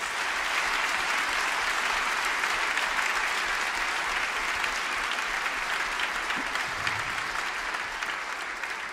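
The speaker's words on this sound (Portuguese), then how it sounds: "peço-me a primeira salva de palmas" Audience at a live music show applauds for an orchestra conductor, a steady, dense roar of clapping that fills the room for nearly nine seconds at a fairly even level.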